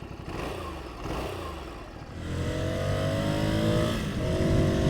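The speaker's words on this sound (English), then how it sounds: "can you guys hear that little whistle in the engine?" A 2020 Ducati Scrambler Sixty2 motorcycle engine runs while riding, rising steadily in pitch as it accelerates through the second half, with a faint high whistle over the engine note.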